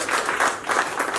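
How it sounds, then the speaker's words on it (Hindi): An audience in a theatre claps in a short, dense burst of applause, close and lively, with no voices above it. "इनके लिए तालियां दीजिए"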